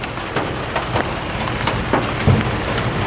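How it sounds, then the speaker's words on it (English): Steady rain falls outdoors as a dense, even hiss, with a few slightly louder drips and patters standing out now and then, and no voices. "It's raining."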